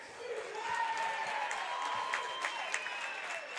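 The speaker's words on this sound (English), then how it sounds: "The Flora fans stand and cheer in mock derision." High school basketball fans at a Class 2A regional semifinal standing and cheering in mock derision, a sustained wash of crowd noise with scattered claps and shouts, rising early and holding steady.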